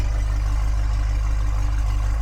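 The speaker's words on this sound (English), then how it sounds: "this engine is running." BMW S63 V8 running with a B58 ignition coil fitted, idling with a steady, smooth low hum and faint even clatter, close and continuous.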